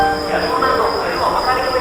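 The Sanghamitra Superfast Express, train 12295, rolls along the rails with a steady mid-range rumble and a thin high metallic whine on top, loud and close throughout.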